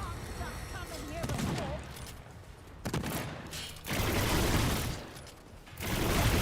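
Enemy gunfire in Remnant 2, with rapid bursts of dense shooting that start and stop in several waves, mixed with mechanical clicks and someone talking over the action.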